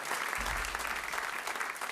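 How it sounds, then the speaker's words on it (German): An audience at a Kölsch-language show at Cologne's Hänneschen puppet theatre claps steadily, a dense, even wash of applause with a low voice briefly murmuring underneath. "Ja, Applaus"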